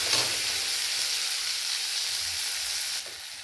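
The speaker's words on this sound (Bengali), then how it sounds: "টমেটোটা একটু ভেজে নেব।" Chopped tomato with a little salt fries in oil with a loud, even, hissing sizzle that carries on steadily and drops noticeably quieter at about the three-second mark.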